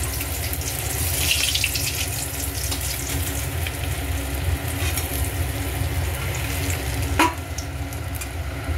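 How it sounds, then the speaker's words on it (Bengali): Catla fish heads frying in hot oil give a steady, close bubbling sizzle with a brief sharper crackle near the end and no talking. "মাছের মাথাগুলো ভালো করে ভাজা হয়ে গেছে, একদম লাল লাল করে ভেজে নিয়েছি।"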